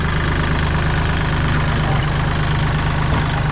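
A Kubota L3608 tractor engine idles steadily at close range, a loud continuous diesel rumble with an even low throb and mechanical clatter throughout, and no voices over it.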